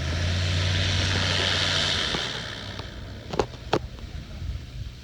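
A Kitfox light aircraft taxis nearby. Its propeller engine drones loudly at first, then eases off and fades a little, with a few sharp knocks and clatters near the end.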